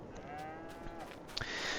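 Cattle in the Farming Simulator video game give a faint, drawn-out moo, heard alone at low level.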